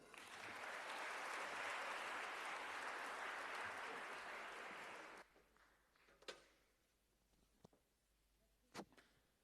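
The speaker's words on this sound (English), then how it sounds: "Let's keep on clapping those hands as we usher him to his seat" A loud, dense round of audience applause at a provincial excellence awards ceremony in KwaZulu-Natal cuts off abruptly, followed by near silence with a few faint knocks and thuds.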